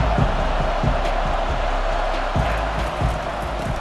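A stadium crowd roars on a big third down in the College Football 25 video game during Tennessee versus Texas, a dense, sustained cheer with rhythmic stomping thumps beneath it and a commentator's voice over the top.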